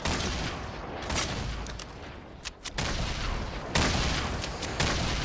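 Heavy shotgun fire in Fortnite gameplay, loud sustained blasts and booming bursts filling the whole clip, with a brief lull midway before another sharp loud shot.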